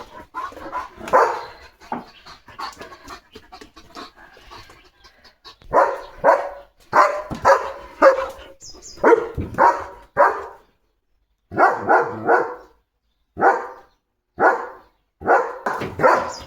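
A German Shepherd barks repeatedly in loud, close bursts, some in quick doubles, with short pauses between volleys.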